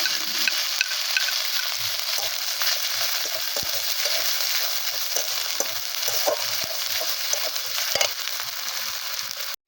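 Ginger, garlic, onion and chilli pastes fry in a pan, a loud, dense, continuous sizzle up close with occasional stirring knocks and crackles, no talking.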